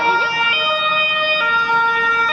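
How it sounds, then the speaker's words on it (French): An emergency vehicle siren wails loud and close on a street in Brussels, a sustained two-tone electronic cry that holds steady throughout with faint traffic beneath. "Ah, les sirènes, c'est les mêmes."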